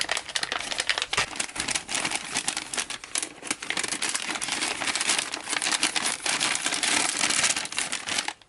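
MRE pepperoni pizza slice packaging being folded, loud close crinkling and crumpling of stiff plastic and foil that runs continuously with dense rustling bursts throughout.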